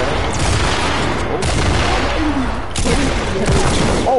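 A minigun fires in an online video game in sustained rapid bursts with a short break partway through, loud and dense, over game noise and faint tonal effects.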